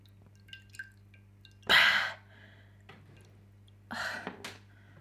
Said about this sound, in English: I have my water right here that I'm going to dip my face in